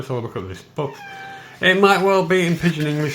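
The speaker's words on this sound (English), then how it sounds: "That is my cat giving her opinion on everything as well." A house cat meows repeatedly and loudly close by, several drawn-out tonal cries mixed with a person talking at the same time.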